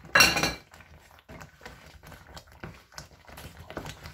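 Metal clinks and scrapes as coconut, raisins, almonds and pistachios are stirred into semolina halwa in a pan, a sharp clatter at the start followed by lighter, scattered taps and scrapes.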